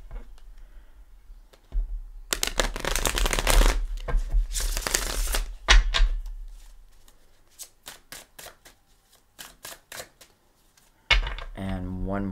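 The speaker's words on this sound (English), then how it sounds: "Give it a couple shuffles." Tarot cards are riffled and shuffled in two rapid bursts, followed by scattered taps and light handling clicks, with a short voice at the end.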